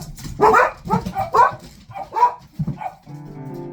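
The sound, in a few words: dogs barking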